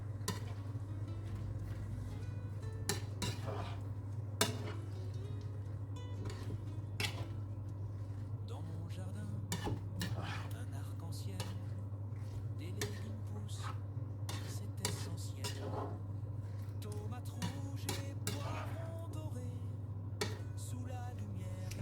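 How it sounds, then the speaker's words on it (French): A spoon stirs an endive and leek fondue in a pot with onion and white wine, giving scattered light clinks and scrapes against the pot over a low, steady background hum. "Je vais d'abord mélanger"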